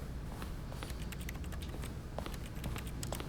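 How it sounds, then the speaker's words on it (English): Touching objects in The Stanley Parable video game produces rapid keyboard-like typing clicks, a quick, irregular patter of close plastic key taps over a low background hum. "Why does everything sound like a keyboard when you touch it?"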